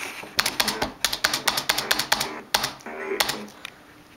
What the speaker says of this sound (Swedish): När man har en tangentbord ska man klicka.